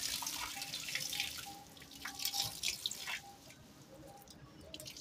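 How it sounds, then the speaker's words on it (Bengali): Water poured out of a container, splashing and trickling loudly at first, then thinning to scattered drips, with quiet tonal background sounds. "জলটা ফেলে দিলাম"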